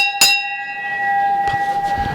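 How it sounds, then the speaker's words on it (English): A single bright bell strike marks thirty seconds left in a polo match, ringing clear with a long sustained tone over faint outdoor field noise. "And there goes the 30-second bell."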